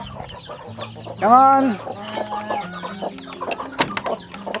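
Chickens cluck and chatter nearby, with a louder rising squawk early on and scattered bird calls; a person speaks briefly.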